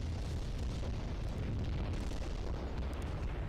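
An airstrike explosion in the World in Conflict video game sounds as a continuous low rumbling roar, loud and dense with booming, sustained for several seconds without talk.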